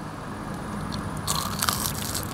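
A crunchy bite into rich, dense, layered carrot cake, heard up close as a brief crackling crunch that rises out of steady background noise.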